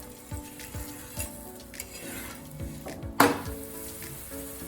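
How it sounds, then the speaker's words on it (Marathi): Corn paratha roasting on a hot griddle gives a steady soft sizzle, with a brief louder crackling burst partway through, close and continuous with no voices. "खालच्या बाजूने पण आपल्याला असा भाजून घ्यायचा"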